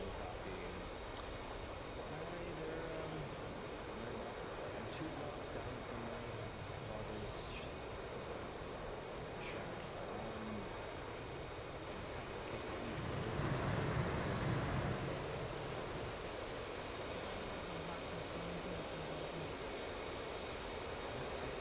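A jet aircraft taxiing on a runway in the video game DCS World, a steady engine whine and rumble that swells briefly midway, continuous and fairly distant, no talk.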